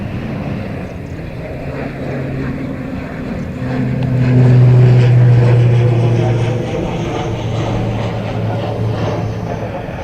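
A jet airliner takes off at Dublin Airport, its engine roar droning steadily and swelling louder in the middle before easing off.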